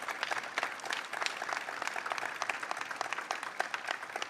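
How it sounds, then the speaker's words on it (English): A crowd claps steadily throughout at a bill signing ceremony, a dense, even burst of applause with no voices standing out. "let's give them a round of applause."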